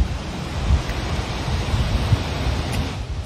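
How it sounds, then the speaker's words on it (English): Wind rumbles and gusts steadily outdoors during a stroll at Horsley Towers, a continuous low buffeting roar close on the microphone with no voices. "Hope it's not too windy for you."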